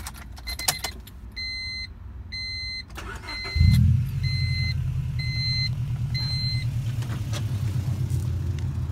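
Keys jingle and a chime beeps repeatedly before a Honda Civic Si engine cranks, catches loudly and settles into a steady, even idle close by.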